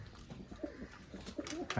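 Pigeons coo in a low, soft, repeated warble, several calls overlapping close by against a steady background hiss.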